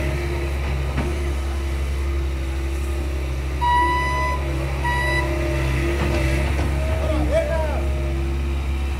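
Ongoing house construction with a heavy low rumble, broken by a short run of high reversing beeps from a truck midway, plus scattered knocks and clatter throughout.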